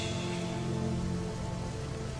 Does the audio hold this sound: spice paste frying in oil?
no